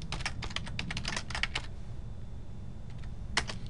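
Keys tapped on a computer keyboard while entering an Excel shortcut, a quick run of close, crisp clicks for about a second and a half, a pause, then a few more presses near the end.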